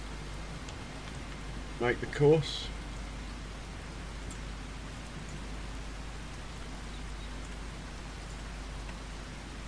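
Steady rain hiss in Farming Simulator 25 runs through the whole stretch as even broadband noise, with a short burst of speech near the start riding over it.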